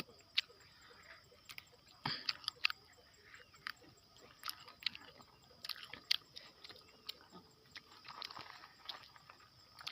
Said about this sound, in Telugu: చెట్టు మీదే తింటున్నా భలే టేస్ట్